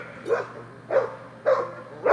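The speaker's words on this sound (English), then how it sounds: "these dogs know they can't get them fucking hogs" Dogs bark at hogs outdoors in three or four separate loud, close barks spaced evenly apart, over a low steady hum, with no talking.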